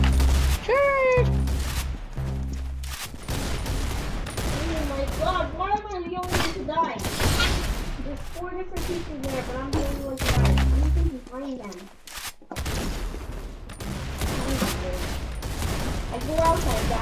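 Rapid gunfire in the first-person shooter game Arsenal, with bursts of shots rattling almost nonstop while players talk excitedly over them.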